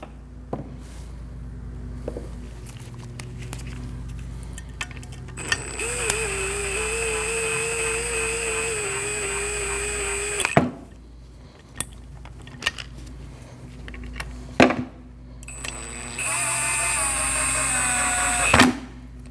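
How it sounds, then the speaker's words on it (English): Brake caliper bolts on a Nissan NV2500 van are driven tight with a power tool in two sustained whirring bursts, separated by quieter clinks and handling of metal parts. "Line up your 2 caliper bolts and tighten those"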